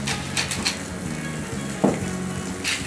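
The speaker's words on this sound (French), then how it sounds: "mettre un filet d'huile d'olive dans une poêle bien chaude. Y déposer la caille" Quail sizzling in a very hot pan with olive oil, a steady close frying crackle with a few light utensil clicks over it.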